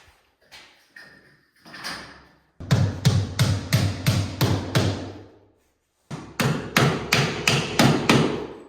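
Hammer driving wide flat nails into drywall sheetrock in an off-grid kitchen, with a few scattered taps followed by two loud, rapid runs of evenly spaced close blows separated by a short pause.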